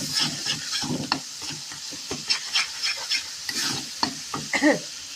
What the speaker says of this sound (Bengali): হলুদ, জিরের গুঁড়ো, ধনের গুঁড়ো, কাশ্মীরি রেড চিলি পাউডার, এগুলি ভালো করে কষিয়ে নেব।